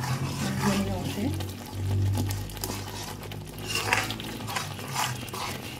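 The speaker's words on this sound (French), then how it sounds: "Je vais mélanger." Egg gravy being stirred in a pot, with soft scraping and liquid swirling sounds that come and go in bursts, beneath a steady low hum and some talk.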